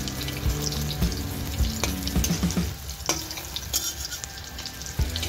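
Fish egg bora fritters frying in hot oil, a strong crackling sizzle broken by clinks and scrapes of a utensil turning them, with no talking.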